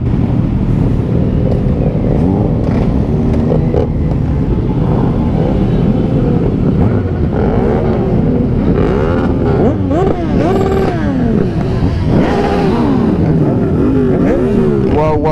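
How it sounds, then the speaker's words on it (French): Several motorcycle engines rev and roar up and down close by at a protest rally against motorcycle roadworthy testing, a dense, loud rumble of rising and falling engine pitch with a crowd murmuring underneath. "Oh là là, cette concentration de motos."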